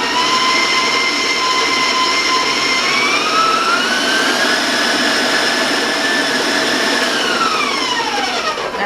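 An electric mixer beats oatmeal chocolate cookie dough at high speed, giving a loud, continuous motor whine that climbs in pitch midway and then drops slightly near the end, with no talking over it.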